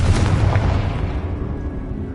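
A fire spell bursting into a booming explosion in the video game Hogwarts Legacy: a single loud blast with a deep rumbling tail that slowly fades.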